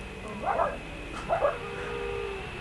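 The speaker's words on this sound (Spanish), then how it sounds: "el mismo perrito salchicha que siempre se ponía a ladrar cuando se iba la luz" A small dachshund barks in short, urgent bursts, two clusters of sharp yips a moment apart, moderately close over a quiet background hum.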